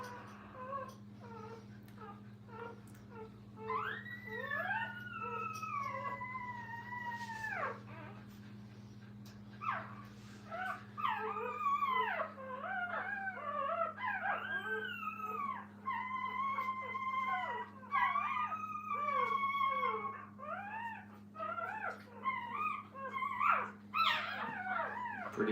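Puppies in a training kennel whimper, whine and howl in drawn-out, wavering cries that overlap almost continuously, close and fairly loud over a steady low mechanical hum.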